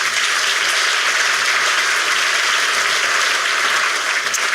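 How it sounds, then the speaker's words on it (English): An audience at an annual dinner applauds, a dense wash of many hands clapping that stays loud and sustained throughout. "Let's give them another round of applause."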